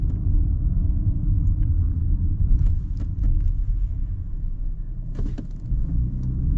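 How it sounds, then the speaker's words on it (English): Cabin drone of a 2024 Audi A6 with its 3-liter V6 pulling forward, a steady low rumble with faint road noise and a few small knocks, no voices. "we'll see how much torque this little 3-liter V6 has"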